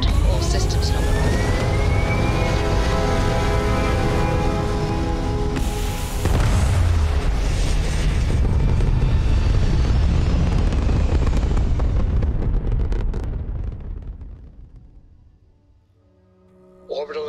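Video game spaceship liftoff and orbital insertion: a loud sustained roaring rumble with rising whine and tonal engine layers, building then fading away toward the end before a final thump.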